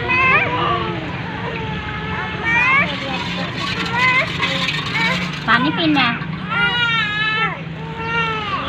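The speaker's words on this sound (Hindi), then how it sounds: "हर तरफ बच्चों का शोर शराबा है, बच्चों ने रोना डाला हुआ है।" Children make noise at home with whiny, crying voices rising and falling over each other in continuous, close commotion, someone talking through it.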